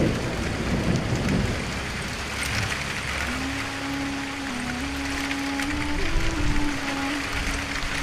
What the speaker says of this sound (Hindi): बाहर यह बारिश कुछ ज्यादा ही तेज हो गई है।